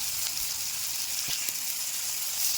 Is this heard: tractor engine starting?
no